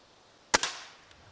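An air rifle fires a single sharp crack at a 10-metre target during a regional Cossack games shooting event, followed by a quick secondary snap and fading ring in a quiet setting.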